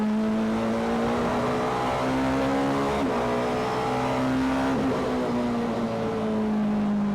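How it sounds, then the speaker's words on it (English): A BMW 318i super touring race car's high-pitched engine screams steadily nearby, its tone rising and dipping slightly as it revs, with no voices over it. "Listen to that engine though."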